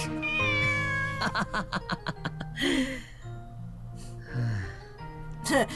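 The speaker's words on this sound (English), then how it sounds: "Here I was talking to a cat" A cat in the horror game Corpse Party Book of Shadows meows several times, with clear drawn-out and rising meows spread across the clip and a short snort-like sound near the end.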